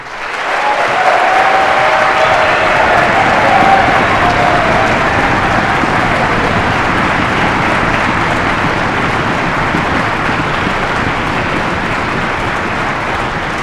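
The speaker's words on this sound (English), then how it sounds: "I want you to help me give a very robust round of applause for the people who did the real work" An audience applauds student performers on stage at a performing arts showcase, a dense, sustained wash of clapping that holds steady throughout, with a faint voice briefly heard early on.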